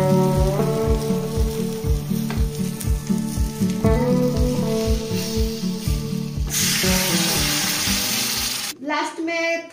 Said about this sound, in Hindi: थोड़ा सा चीनी ऐड करके मैं बटर और रेड चिली पाउडर का छौंक लगा दूंगी